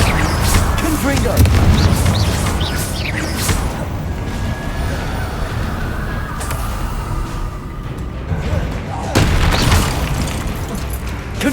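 Heavy booming bursts from Hogwarts Legacy's Confringo fire spell land loud and close, with a strong blast near the start and another near the end, amid ongoing game noise and occasional voices.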